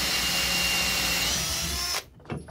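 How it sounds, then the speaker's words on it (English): A power drill whines steadily at high speed with a grinding bite into hard stainless steel, then cuts off abruptly near the end. "This stuff is not easy to drill."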